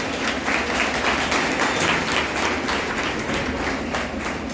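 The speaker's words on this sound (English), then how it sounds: "applause must be louder than what they are" Conference audience at a yoga for peace and prosperity event claps in a continuous, even roar of applause, fairly loud and sustained throughout without pause.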